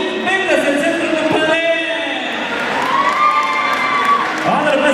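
Loud crowd cheering and applauding at a dance tournament in Villa Park, with whoops, shouts and high children's voices over continuous clapping.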